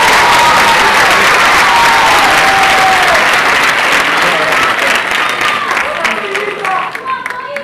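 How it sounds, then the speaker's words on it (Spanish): Loud, sustained applause from a crowd at a high school graduation ceremony in Spain, a dense wash of clapping that fades slightly near the end as faint tones emerge. "Un forte aplauso, por favor."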